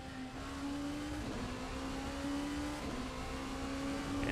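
LMP1 prototype race car in Assetto Corsa, racing at night at Mugello, engine held at full throttle with a steady high-pitched drone that rises slightly across a gear change, loud and continuous with no talk.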